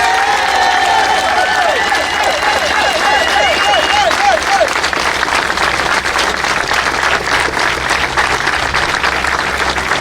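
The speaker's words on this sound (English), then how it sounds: "Once again, applause, please" An audience at a drifting competition applauds the third-place driver with loud, sustained clapping and crowd noise, and a brief warbling tone rises over it early on.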